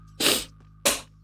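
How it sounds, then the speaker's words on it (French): Two sharp sneeze-like bursts, close and loud, about half a second apart, over a quiet game background hum. "J'ai envie d'éternuer."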